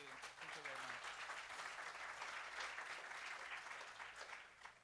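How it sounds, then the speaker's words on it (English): Audience applause at a conference session fills the room, a dense and steady wash of many hands clapping that holds at an even level before tapering slightly at the end, with a brief voice at the start. "let's give Sanjay another round of applause"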